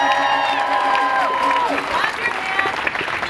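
An arts advocacy crowd claps and cheers briefly while a voice carries over the noise, the applause a dense wash that stays steady to the end.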